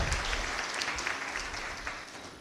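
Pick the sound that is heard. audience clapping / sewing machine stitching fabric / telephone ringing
audience clapping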